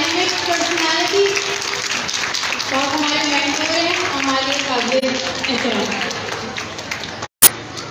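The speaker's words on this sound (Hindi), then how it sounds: "सर के लिए बहुत ज्यादा जोरदार तालियां" Audience at an annual Quran-completion ceremony breaks into sustained applause for a speaker. Dense clapping runs steadily for about seven seconds under a voice talking over it, then cuts off abruptly.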